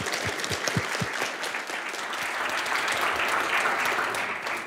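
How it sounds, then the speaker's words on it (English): A conference audience applauds steadily for several seconds, a dense wash of clapping from a full room with no speech over it. "So please, a round of applause for Sanne Maasakkers."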